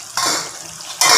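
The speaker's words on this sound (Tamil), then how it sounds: "தண்ணி கொஞ்சம் ஊற்றுறேன்." Water splashing and pouring in short bursts, close by, into a dried salted fish and broad bean curry, with a brief lull between two louder gushes.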